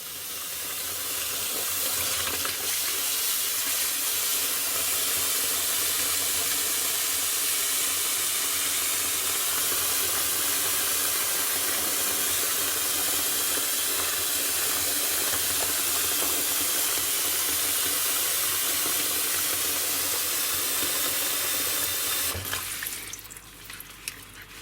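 Tap water runs steadily into a sink as orchid roots are rinsed during repotting, a loud continuous gushing hiss that lasts almost the whole time before cutting off near the end.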